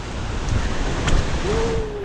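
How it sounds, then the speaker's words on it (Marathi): Roaring water of Ukshi Ranpat waterfall near the Konkan Railway line, a steady broadband rush with spray and wind, continuous and close. "पाण्याचा आवाज बघा किती येतोय तो"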